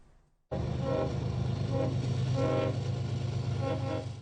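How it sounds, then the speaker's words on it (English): A train rolls through Tyendinaga territory in Ontario, a steady loud rumble that starts abruptly and carries on with several long horn blasts sounding over it. "the first train passed through Tydendinaga territory since the end of the demonstration"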